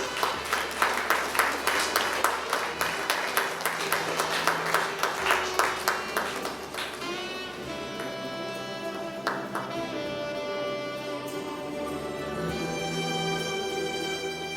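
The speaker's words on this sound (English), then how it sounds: "Please give a big hand of applause." Guests at a school handing-over ceremony clap in a regular, rhythmic beat for several seconds, then the clapping gives way to sustained music.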